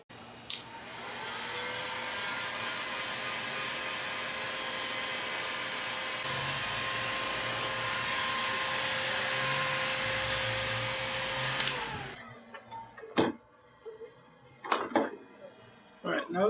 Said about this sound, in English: I'm just going to heat this up until it's soft enough to form